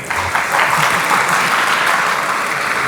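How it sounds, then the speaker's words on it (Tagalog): Loud, steady applause from a crowd, dense clapping filling the whole stretch without a break. "Taas ng palakpak mo"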